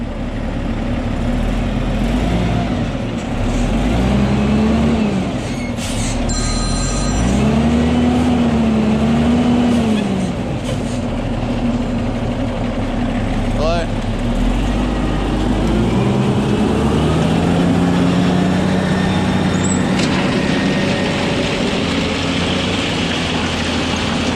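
A truck engine idles and revs while being loaded with rock during road work after rain. The steady, heavy drone rises and falls in pitch several times, with occasional clanks over it.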